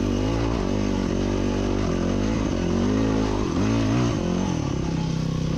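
A hard enduro dirt bike climbs a rocky cliff trail at Warner Valley, Sand Hollow, its engine droning close and loud with rising and falling revs as the throttle is worked.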